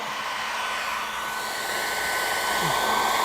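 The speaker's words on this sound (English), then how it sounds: "I usually mist the coat, a hairdryer on low" A hair dryer on low blows steadily at close range on a dog's coat during grooming, a continuous airy whoosh with a faint motor hum, rising slightly toward the end.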